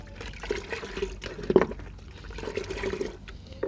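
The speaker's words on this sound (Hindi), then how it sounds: "पूरे पॉट में वाटरिंग कर देंगे।" Water mixed with fungicide is poured into a hibiscus plant pot, producing a soft, uneven splashing and trickling close by, with a brief louder gush midway.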